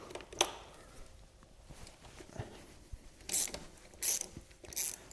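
Ratchet wrench breaking loose a Loctite-secured brake caliper bolt on a Honda CB500X motorcycle's front brake, with a few short, close clicking bursts and faint mechanical creaks, no talking.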